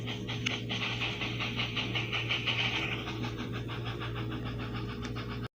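Steam tank engine from the Trainz railway game puffing along the rails, a steady rapid chuffing rhythm over a constant low engine drone, continuous and fairly loud throughout with no talk.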